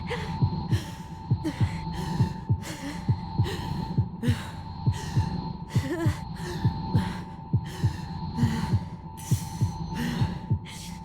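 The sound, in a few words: heartbeat sound effect from the video game Tell Me Why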